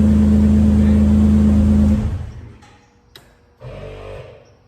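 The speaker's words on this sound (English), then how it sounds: "Compressor's on." A Jeep's engine runs loud and steady with an air compressor switched on, then the drone drops away into quieter mechanical hum with a brief click and a renewed steady running sound near the end.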